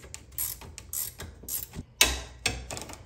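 A ratchet wrench works loose a 9/16 bolt on the front suspension of a Club Car DS golf cart, giving bursts of close mechanical clicking and ratcheting that start and stop in several short runs, with a sharper clatter near the end.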